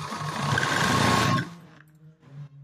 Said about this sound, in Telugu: ఇలా ఎడ్జెస్కి ఒక చిన్న కుట్టు అయితే వేసుకుందాం.